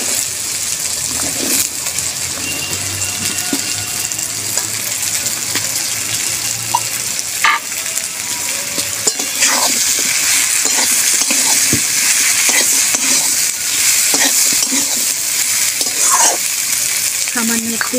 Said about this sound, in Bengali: এবারে দেবো আমি এই যে সামলাগুলো দিয়ে দেবো।